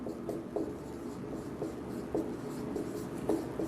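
A pen writing by hand in a notebook during a geometry lesson, soft continuous scratching with small taps where strokes begin, close and steady with no talking.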